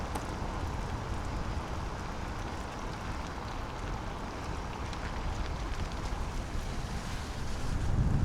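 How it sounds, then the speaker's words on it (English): Steady, dense rush of a waterfall in a Pacific Northwest canyon during snowmelt, loud and continuous with wind buffeting the microphone, growing slightly louder toward the end, no talking. "Stopped at another cool waterfall."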